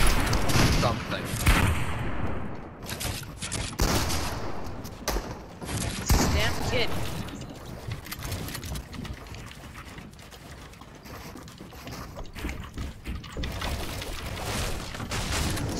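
Gunfire in a shooter video game, loud and close, with rapid bursts and thudding impacts up front that taper into sparser shots while voices talk through the exchange.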